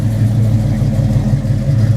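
A car with a Flowmaster exhaust and H-pipe and a 9-inch rear end rumbles loudly and deeply, its low engine note steady and close throughout.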